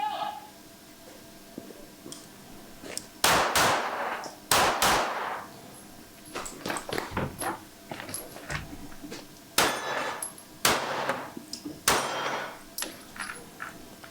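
Gunfire on a stage of a Finnish two-gun shooting competition in Hätila, sharp loud shots in irregular bursts with metallic clangs of steel targets, people talking and calling out between strings.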